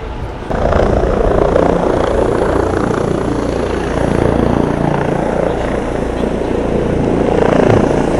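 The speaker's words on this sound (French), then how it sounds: "il y a un hélico qui est en train de se poser là" A small helicopter's loud, steady rotor roar and engine whine, close by, starting abruptly and sustained throughout as it descends to land.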